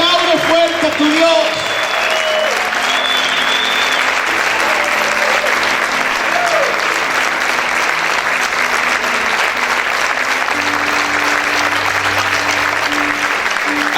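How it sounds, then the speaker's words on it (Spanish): Church congregation clapping loudly and steadily throughout, a dense continuous wash of applause with tonal music and a voice threaded faintly underneath. "Aplaude fuerte a tu Dios."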